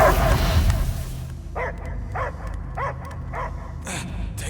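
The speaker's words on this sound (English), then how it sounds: "I hear only barking." A dog barks in the Guardians of the Galaxy video game, five evenly spaced barks that sound close and clear after a dense burst of game noise at the start.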